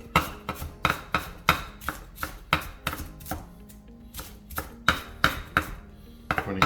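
Knife dicing iceberg lettuce on a cutting board for a hoagie dip, a quick run of crisp, sharp chops close up with a brief pause midway and no talk.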